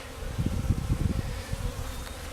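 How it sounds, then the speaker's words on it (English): Honey bees from a package buzz close by as they are shaken into a hive, a low, pulsing drone with irregular swells and no talking. "there's all these bees hanging out over here, and I'm just going to come and I'm going to shake them inside the hive"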